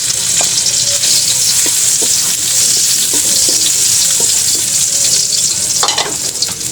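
Garlic sizzles steadily in a hot oiled pan, the start of sautéing sardines with bitter gourd, with a constant close frying hiss and occasional stirring clicks from a utensil.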